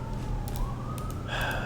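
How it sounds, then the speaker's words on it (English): Wailing emergency-vehicle siren in a Minecraft Alpha session, a steady rising and falling tone that holds throughout at moderate, fairly close loudness with no talking over it. "Sirens. Always sirens."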